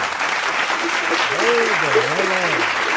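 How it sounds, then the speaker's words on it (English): A group of people claps continuously during a podcast recording, with steady applause under a voice. "Gotta clap for that shit."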